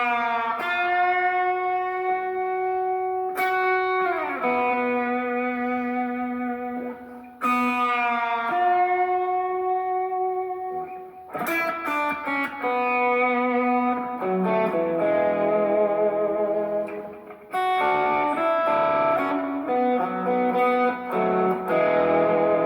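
An electric guitar drenched in heavy reverb plays a song with whammy bar bends, ringing single notes and chords sustaining into long washy tails across a slow, spacious phrase, with no talking.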